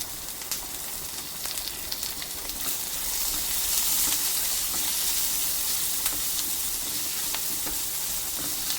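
Udupi-Mangalore style drumstick and brinjal sambar ingredients fry with asafoetida in a pan, a continuous close sizzle and hiss that swells partway through, with faint occasional stirring taps and no voices.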